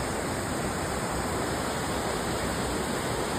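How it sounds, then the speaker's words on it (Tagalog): Maranum Falls in Natividad, Pangasinan, a waterfall giving a steady, dense, broadband roar with no pauses, heard alone and fairly loud. "nandito na tayo sa Maranong Falls dito sa Pangasinan"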